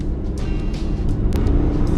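A light car with low horsepower being driven, a steady low engine and road rumble heard from inside, with occasional faint higher squeaks and rattles over the constant drone.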